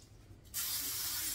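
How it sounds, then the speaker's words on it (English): A short, steady hiss of cooking spray onto a pan starts abruptly after a brief pause and continues evenly, close by. "Spray the pan, y'all."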